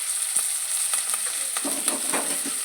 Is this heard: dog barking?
no